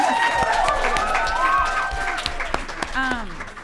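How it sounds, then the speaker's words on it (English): An audience at a school literature conference applauds its student presenters, with moderate clapping and some cheering mixed among nearby voices and bright, tonal calls. "Let's all give everyone who's presented a round of applause."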